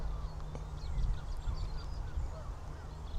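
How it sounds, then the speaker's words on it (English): Greylag geese honk faintly in the distance outdoors, a few scattered calls over steady low wind rumble. "I can see a group of geese up ahead. Grey lag geese, I think."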